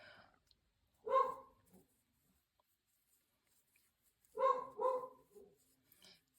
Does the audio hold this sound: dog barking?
yes